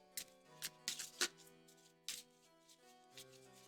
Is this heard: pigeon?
no